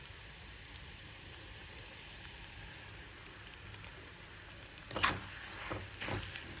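Asafoetida, fenugreek and fennel seeds sizzle in hot oil while bitter gourd pickle is prepared, a steady close hiss with a louder crackling burst near the end.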